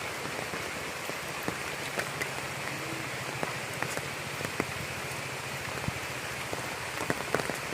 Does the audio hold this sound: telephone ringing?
no